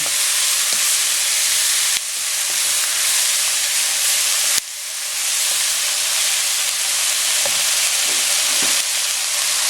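Pork and chicken sizzle loudly in a hot pot for a Filipino sotanghon soup, a steady bright hiss of frying with occasional stirring, interrupted by two sharp drops where pieces hit the oil.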